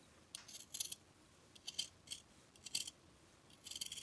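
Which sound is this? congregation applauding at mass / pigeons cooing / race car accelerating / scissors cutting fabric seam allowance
scissors cutting fabric seam allowance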